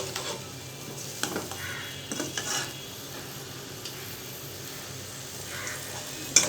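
Ground turmeric, chili and coriander spices sizzle softly in a pan of hot oil for a pumpkin dish, under a steady low frying hiss with occasional scrapes and clicks of stirring, close but fairly quiet.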